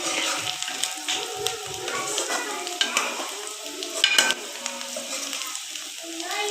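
Onions sizzle in hot oil with whole garam masala for tadka rice, a close, lively fry with stirring clatter and a sharp utensil knock, while a voice talks faintly underneath.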